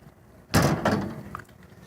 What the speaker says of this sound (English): You always open this door from the inside and the outside.